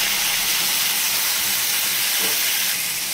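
Ground spice paste hits a hot pan of softened tomatoes, giving a steady, loud, dense sizzle that holds evenly throughout with no voices.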